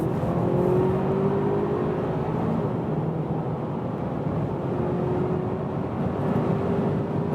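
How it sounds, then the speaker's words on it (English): An Audi or BMW sedan in dynamic shift mode pulls hard at high speed, its engine drone rising steadily under heavy road and wind roar, a continuous loud interior sound with no break. "I'm still accelerating, and once again, 200 kilometers an hour."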